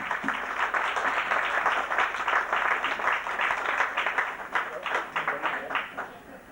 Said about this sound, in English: in me in giving our ladies, Rose and Hannah, a big round of applause